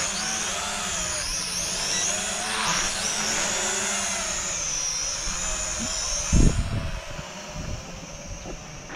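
A Supkiir Battle Sharks foldable 4K drone flies nearby with a continuous buzzing whine that rises and falls in pitch as it maneuvers, then a few sharp thumps and knocks near the end.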